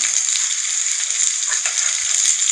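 Pointed gourd kofta fry in a pan with a bright, steady sizzle, close and fairly loud, broken only by a few soft knocks as the pieces are turned gently.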